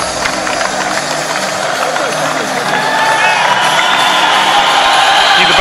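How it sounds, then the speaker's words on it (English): A large crowd roars and cheers at an M-1 Challenge MMA fight. The noise stays loud and continuous, a dense wall of voices that swells slightly toward the end. "Crowd is roaring in approval here."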